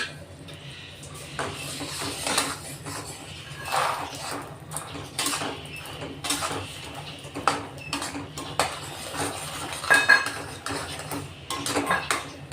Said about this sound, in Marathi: आता हे मखाणे टाकून घेऊ.